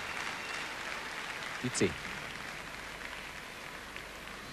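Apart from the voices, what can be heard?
rhythmic staccato applause from gymnastics audience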